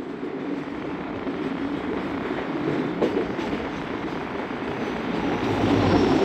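A Sukkur Express passenger train led by an HMU 8203 locomotive at Padidan station, with a steady low rumble of the train and engine, growing slightly louder toward the end, with no voices.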